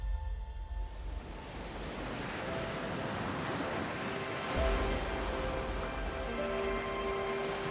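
Sea waves against the Pembrokeshire cliffs make a steady, broad wash of surf with wind noise, continuous and distant with a slight swell midway.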